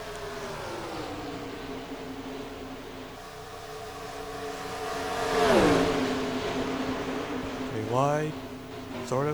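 Stock cars roaring past in a sim racing game at Las Vegas, engine tones rising and sweeping through a close pass, with more cars buzzing by near the end under a race commentator's voice.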